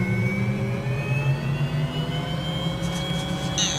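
Simulated MD 500E helicopter turbine at full throttle in a flight simulator, a continuous loud whining drone with steady high tonal hum, brief clicks near the end.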